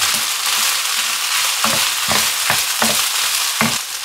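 Carrots stir-frying in a hot pan for chicken fried rice, a steady loud sizzle with repeated scraping stir strokes about every half second, close and with no talking.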